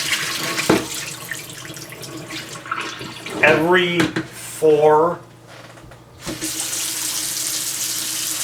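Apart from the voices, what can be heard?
tap water filling a bowl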